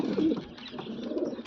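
A fancy black pigeon with white feet coos in low, throaty rolls, one fuller call at the start and softer murmuring coos after, close by with faint background noise.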